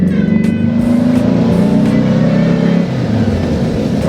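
A 1964 Baja Bug with a new Ace Racing engine revs hard and steady, its loud close engine note rising and holding for several seconds before easing slightly near the end.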